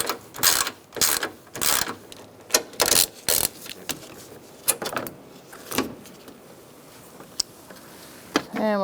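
Ratchet wrench loosening a 10mm battery bracket bolt on a 2002-2006 Honda CR-V: irregular bursts of close, sharp clicking, some rapid and some single, with quieter pauses between.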